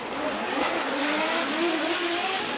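Drift cars at Formula Drift Japan scream through a corner with sustained tire squeal and high revving engines, a loud continuous wash of screeching rubber and exhaust from close by.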